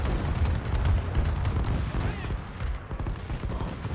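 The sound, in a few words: bombing run explosions in Call of Duty Advanced Warfare video game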